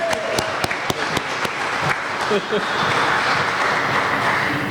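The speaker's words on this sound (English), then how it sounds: "let's give him a round of applause" An audience at a school staff training session gives a round of applause for the area coordinator, a few sharp early claps swelling into a full, close, steady patter of hands.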